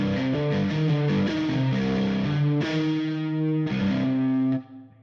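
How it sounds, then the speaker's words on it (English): A single-note synth melody preset plays from the Mint plugin loaded in Native Instruments Kontrol MK3, bright and distorted with a chorus sheen, stepping through sustained notes alone before cutting off near the end. "Now the melody presets in Mint are actually single notes,"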